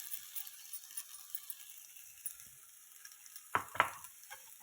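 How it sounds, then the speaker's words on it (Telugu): A spatula stirs cooked rice into egg fried rice in a hot pan, giving a faint, steady sizzle with a few sharp scraping clinks of utensil against metal near the end. "దీన్ని బాగా కలుపుకుందామండి."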